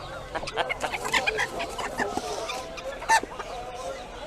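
Chickens cluck and squawk in cages at an animal market in Antalya, several birds calling close by over a busy background murmur.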